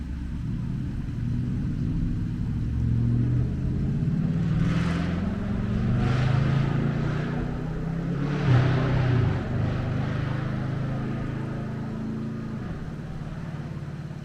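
A car with a loud exhaust passing on a road, a low engine rumble swelling past the middle and then fading, heard from the roadside over steady background noise.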